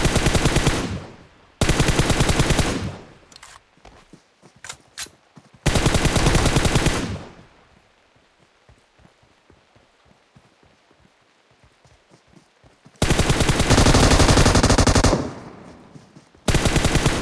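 Bursts of loud automatic gunfire in a PUBG Mobile fight, several long sustained volleys separated by quieter stretches of scattered single shots and distant pops.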